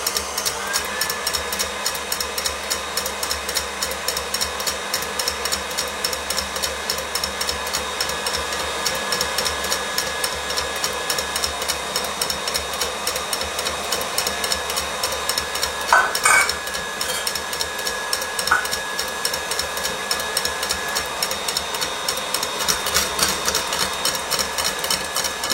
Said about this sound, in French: On va continuer à battre les blancs et on va ajouter le sucre comme ça.